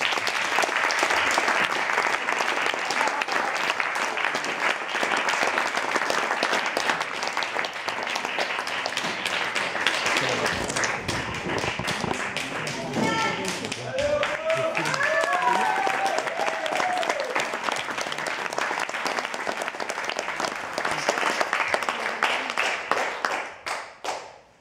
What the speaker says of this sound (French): je vous demande un tonnerre d'applaudissements pour Natacha.